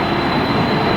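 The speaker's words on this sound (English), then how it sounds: "There's another airplane taking off over there." A commercial airplane engine roars during takeoff at Los Angeles airport, a loud, broad, steady rush with a high whine running through it and no voices.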